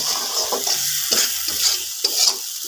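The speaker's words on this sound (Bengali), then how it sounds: "তো এটা হচ্ছে একদম আমি ভাজা ভাজা করে নেড়ে একটু সামান্য পানি দিয়ে আবার ভাজা ভাজা করে নেব।" Dried lotka shutki fish, with onion in the pan, fries under a steady crackling sizzle as a spatula scrapes and turns it in several distinct strokes, heard close-up with no voices.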